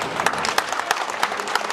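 Wedding guests applauding at a celebration, a brief burst of steady clapping from a small crowd with sharper individual claps standing out.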